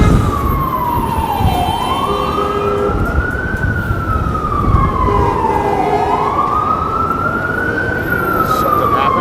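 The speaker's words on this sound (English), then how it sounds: "it sounds like there's kind of cop cars coming from all around." Emergency sirens wail loudly on a New York City street, rising and falling in slow sweeps over heavy traffic rumble.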